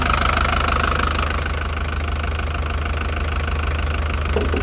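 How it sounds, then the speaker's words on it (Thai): A diesel pickup truck engine idles close by with a steady, rhythmic knocking rumble that continues throughout, with no talking. "เครื่องยนต์ดีเซล"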